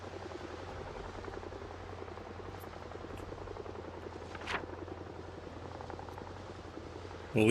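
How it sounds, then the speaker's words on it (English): A helicopter in the zombie survival game Project Zomboid drones steadily overhead with a constant rotor hum and buzz, with no talking. "Man, this helicopter's been here all day."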